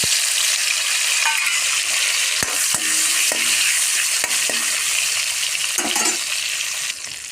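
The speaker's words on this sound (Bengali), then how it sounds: "প্রথমে আমরা শুটকি হালকা করে ভেজে নেব" Dried fish sizzles loudly in hot oil, a constant crackling hiss punctuated by several sharp scrapes and knocks of stirring.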